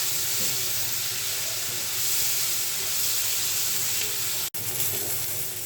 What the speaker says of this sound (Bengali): আবারও সরিষার তেল দিলাম। ভালোভাবে নাড়তে হবে, তা না হলে নিচে লেগে যাবে।